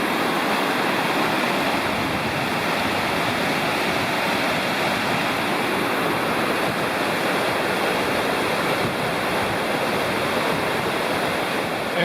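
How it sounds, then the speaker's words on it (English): A powerful waterfall dropping 500 feet or more on the Blue Ridge Parkway roars steadily and loudly, a dense, unbroken rush of falling water with no pauses. "several hundred feet, 500 or more feet of dropping water here"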